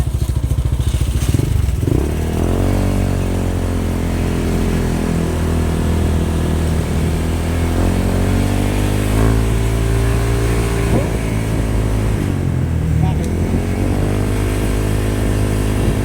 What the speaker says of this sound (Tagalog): Baka sobra RPM ng motor mo eh.